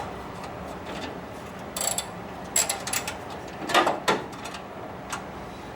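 A wrench ratchets on a battery tray bolt in a Bullnose Ford F-150, with bursts of close mechanical clicking and a few louder clanks against quiet background.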